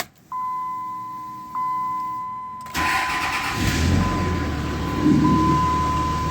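A 2003 Dodge RAM 3500 dually pickup engine cranks and starts after a steady warning chime, then settles into a loud, rough idle close by with the chime continuing.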